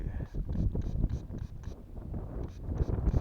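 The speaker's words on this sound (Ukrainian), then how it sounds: "за вітер перепрошую. Якщо дує. А він дує." Wind buffets the microphone in low, rumbling gusts that come and go, with talking mixed in.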